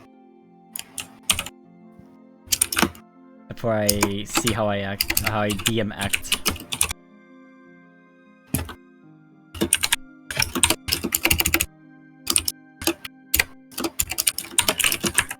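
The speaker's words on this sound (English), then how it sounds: "the clacking that your microphone is generating is like being heard on my headphone" Loud computer keyboard clacking in rapid bursts and scattered keystrokes, with a stretch of speech in the middle and typing resuming around it.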